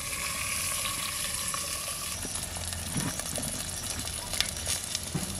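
Mustard-oil spice paste of chilli, cumin, garlic and onion in a clay pot, sizzling and crackling steadily as water is poured in, with faint stirring scrapes and a few sharper pops near the end, no talk.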